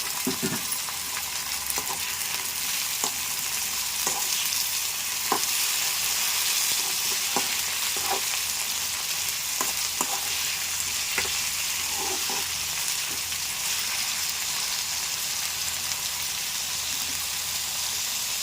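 Boiled broad beans tipped into a hot frying pan, giving a dense continuous sizzle with scattered sharp spatter pops and stirring clicks at an even level, no voices.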